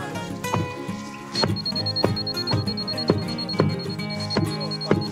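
A laser level beeps on a rainy building site where a concrete plinth is being poured. A high, rapid, steady beeping runs through most of the moment over a louder rhythmic, musical background.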